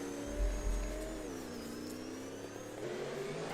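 V8 Supercar engine in a racing video game revving hard as the rear tyres spin up, a loud steady mid-pitched drone with rising and falling harmonics and low rumble bursts near the start.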